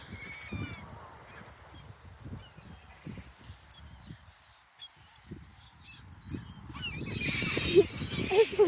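Seagulls being fed on Brighton beach call in scattered squawks and cries, with some low thumps and rustling between them, growing into a louder, denser flock toward the end.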